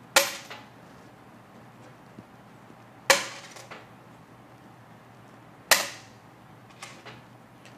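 A copper-rich coin drops three times onto a hard surface, each landing a short dull clink with a quick bounce, spaced a few seconds apart.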